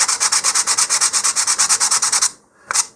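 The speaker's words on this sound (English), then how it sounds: "I'm good with just sanding the edges, just enough to get most of that soot off of there." Sandpaper rubs rapidly back and forth along the edges of model rocket parts to clear soot, about twenty quick rhythmic strokes close up, then a short pause and one last stroke; no voices.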